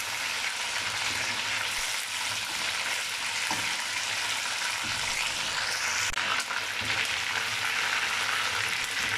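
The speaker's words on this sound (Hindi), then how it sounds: "चिकन को 4 से 5 मिनट अच्छे तरीके से फ्राई करेंगे।" Chicken fries in a karahi for an Afghani chicken karahi, giving a continuous moderate sizzle with a few soft scraping stirs and no talking.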